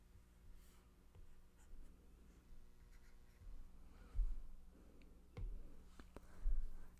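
A pen draws a line on paper during a math lesson on reciprocal functions, making faint, soft scratching strokes close to the microphone.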